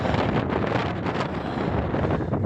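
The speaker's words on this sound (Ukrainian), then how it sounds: "тут вітер такий страшний" Strong desert storm wind in Chile buffets the microphone in a constant, heavy roar with gusty fluctuations throughout, no voices present.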